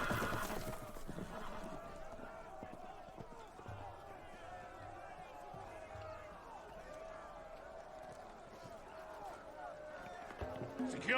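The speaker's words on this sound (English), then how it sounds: "The horses! They're loose!" Horses neigh and hooves pound in Game of Thrones, the Telltale series video game, as loose animals run amid a busy, low-level scene with background voices.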